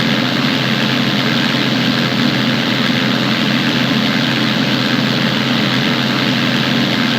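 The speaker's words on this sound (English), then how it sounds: "we're right behind the tow plane." A tow plane's propeller engine, heard from a glider towed close behind on a 100-foot rope, gives a loud, steady drone that fills the whole stretch without a break.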